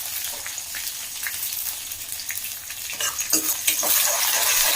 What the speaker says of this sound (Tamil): பூண்டு நல்லா அப்படியே பொரியட்டும்.